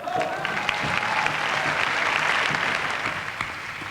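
A television studio audience at a French Eurovision selection show applauds to honour a woman, with warm, even clapping that stays steady and moderately loud for a few seconds and a faint tone underneath.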